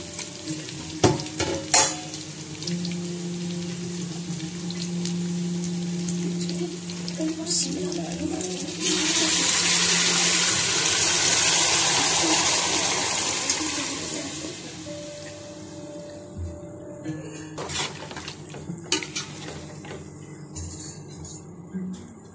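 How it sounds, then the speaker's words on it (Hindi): Strained mutton yakhni stock is poured into a pan for pulao. A loud, steady splashing rush builds and then fades, with sizzling and clattering cookware before and after, and a voice speaking briefly. "अब यखनी छान के वो डालूँ"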